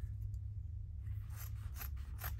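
Scissors snipping through paper for a large ephemera holder craft project, a few quiet, crisp cuts in the second half, close but faint against a low background hum.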